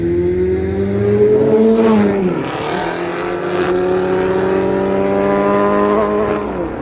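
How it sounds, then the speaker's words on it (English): A car engine revs hard and steadily at high pitch, close and loud, with a brief dip and recovery, during burnouts at an AMG owners club gathering. "Are you doing burnouts?"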